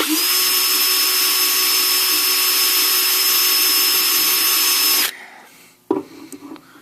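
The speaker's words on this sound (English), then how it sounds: "I'm just making the indent first so the drill will stay on course." A power drill whines steadily at high speed for about five seconds while drilling for a junction box on a blower, then cuts off, followed by brief scraping and handling noises nearby.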